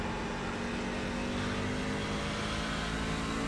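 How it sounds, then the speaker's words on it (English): Several racing trucks jostle for position on a race track, their engines making a steady, broad roar that stays loud and continuous throughout, with no voices over it. "there's kind of 3 trucks right here in front of us fighting for position here"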